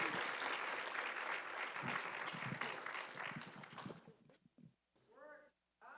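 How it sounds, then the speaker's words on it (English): An audience claps for Mayor Olivia Chow at a Black Youth Can mixer closing Emancipation Month, a steady burst of applause that fades out after about four seconds, followed by brief quiet sounds. "Round of applause."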